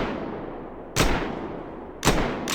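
A TFU32 conversion-kit gun fires in a video game, giving three sharp, loud shots at uneven intervals over a steady background hum.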